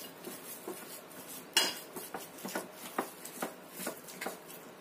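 A spoon stirs tofu egg roll batter of egg and a little sugar in a bowl, giving soft, steady metallic clinks and scrapes with one sharper knock. The sound is close but faint, with no talk.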